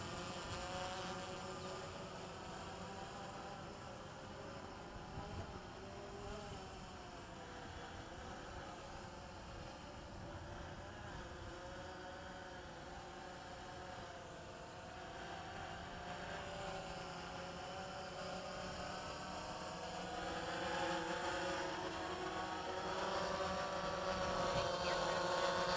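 DJI Phantom 3 Advanced quadcopter landing at a construction site, a steady buzzing rotor whine that swells louder near the end as it comes down close, with no talk over it.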